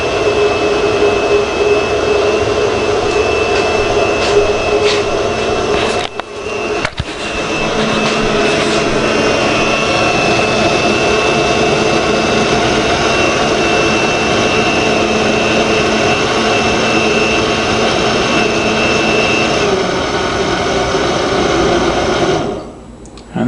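A kitchen cooking appliance's motor spins and blends, a loud steady whirring drone with a brief dip partway through, running continuously before cutting off at the end.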